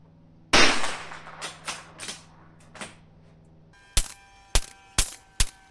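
Rifle shots firing Aguila standard ammunition at a range, a loud crack with decaying echo followed by several smaller reports, then four sharp, evenly spaced loud shots close by.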